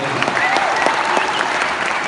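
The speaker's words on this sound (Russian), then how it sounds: "Вот поаплодируйте" An audience in a comedy show hall bursts into dense, sustained applause, many hands clapping close and loud for the whole stretch.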